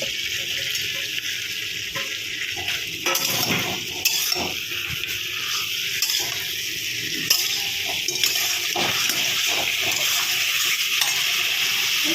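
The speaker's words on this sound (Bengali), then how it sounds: "এখন দিয়ে দেবো ক্যাপসিকাম আর পেঁয়াজ।" Capsicum and onion hit a hot pan and sizzle steadily, with a continuous hiss and scraping stirring strokes throughout while no one speaks.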